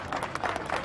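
Applause from a small crowd at an outdoor ceremony marking the start of street paving works in Cajamarca, a steady patter of many hands clapping at moderate distance, lasting under a second.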